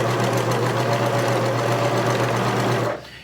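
A sewing machine hums loud and steady while stitching kitchen linen fringe, with a constant motor drone and rapid needle chatter that stops abruptly near the end.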